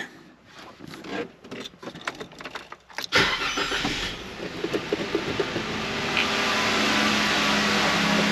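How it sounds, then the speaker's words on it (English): A Jeep engine cranks and catches after a few seconds of handling noise and knocks nearby. It settles into a steady, fairly loud idle that grows slightly in level as it runs. "we'll go ahead, we'll fire up the Jeep"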